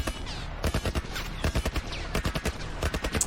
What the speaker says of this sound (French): Un genre de tourelle militaire